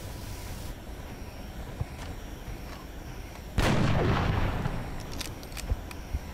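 Gunfire from the strategy game XCOM Long War: a sudden heavy burst of shots and blasts erupts midway and rings out for about a second, then sharp isolated cracks and clicks follow over a low game ambience.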